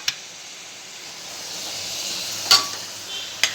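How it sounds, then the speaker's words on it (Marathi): Ground masala with chili powder, turmeric and salt cooks in hot oil, giving a quiet steady sizzle and hiss, with a few sharp spoon clinks against the pan while it is stirred. "आता हे मसाला थोडा शिजवायचा तेलामध्ये"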